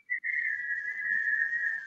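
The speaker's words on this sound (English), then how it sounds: "That's wind? Yeah, that's the wind." Wind whistles around a house in a single thin, steady, high tone that holds for nearly two seconds after a brief break at the start. It is clear and fairly quiet against near silence.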